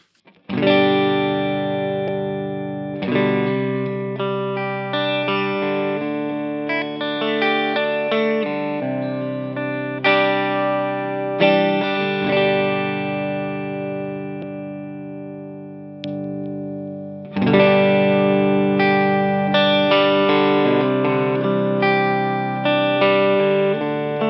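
Electric guitar with a distorted tone through a Harley Benton Dynamic Compressor pedal, all controls at 12, plays a long run of strummed chords and single notes, its level held steady and sustained, with a brief pause midway.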